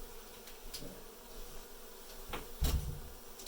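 Honey bees swarm around a hive being cut out of a structure, a faint buzzing hum with a few brief louder bursts and a soft knock near the end.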